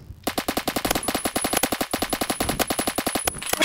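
Rapid automatic gunfire from Roblox Phantom Forces, a dense unbroken burst of evenly spaced shots lasting several seconds, loud and close, with no talking.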